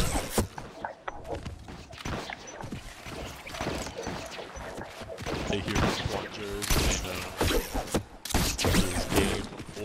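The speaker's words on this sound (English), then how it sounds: "your gunfire up ahead" Rapid bursts of Fortnite gunfire crackle and pop over a dense, noisy mix of mechanical clatter, loud and continuous throughout.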